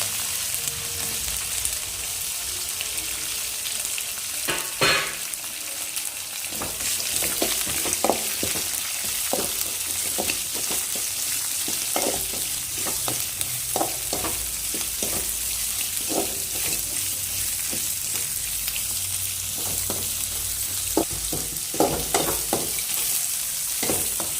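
Sliced onion frying in oil with fennel seeds and curry leaves for an ivy gourd gravy: a steady, close sizzle with scattered clicks and scrapes of stirring throughout.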